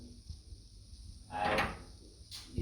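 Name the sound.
hotel room door opening with key card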